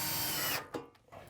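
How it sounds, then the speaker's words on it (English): A power drill runs at high speed boring up into a door header during a sliding door track install, then stops abruptly, followed by a couple of brief knocks and a short restart. "you'll be able to find the hole and drill straight up into your header"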